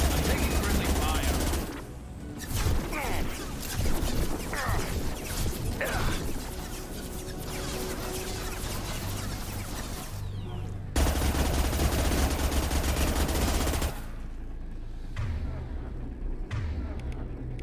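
A Mass Effect 2 firefight with sustained rapid gunfire and crashing impacts, loud and continuous with brief gaps, while voices call out over the shooting.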